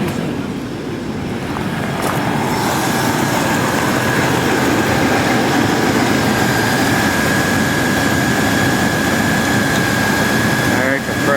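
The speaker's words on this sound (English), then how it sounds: "Now put the compressors on." Car air-conditioning compressor running with the engine on and AC set to max, a steady broadband engine hum with a constant high whine throughout, fairly loud and unbroken.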